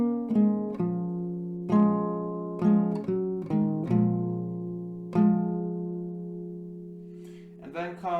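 Acoustic guitar picking a part of a song slowly, single plucked notes ringing out one by one with gaps between, close and clear, ending with a brief faint sound.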